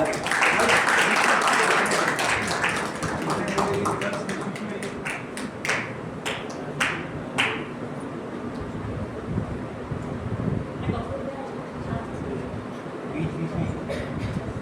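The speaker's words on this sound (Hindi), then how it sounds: "एक कलेक्टिव आपका स्नैप लेने के लिए एक जोरदार तालियां।" Applause at an award ceremony: a dense burst of clapping from an assembled audience that thins into scattered claps, with talk going on underneath.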